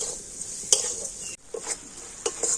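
A thick, sticky filling of ripe palm fruit pulp and sugar is stirred in a pan, with soft scraping strokes and a few spoon clinks over a faint steady sizzle.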